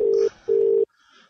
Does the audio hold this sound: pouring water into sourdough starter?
no